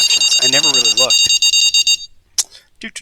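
Repeated electronic bite-alarm beeps from the Fishing Planet fishing game at Falcon Lake, Oregon, a steady rapid pulsing that runs for about two seconds then stops, with someone talking over it.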